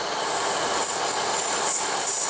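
An approaching train on the rails in Wales gives a continuous high hiss and metallic singing from the track, steady and fairly loud with no talk over it.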